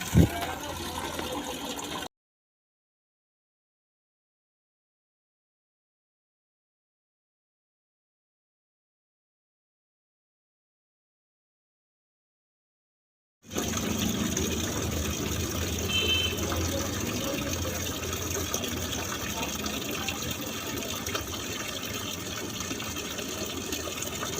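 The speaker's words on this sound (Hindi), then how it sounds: "अब पानी भरते हैं और फिर निकलते हैं" Water runs steadily from a tap into a container, a continuous gushing hiss that starts after a long stretch of silence and keeps going to the end.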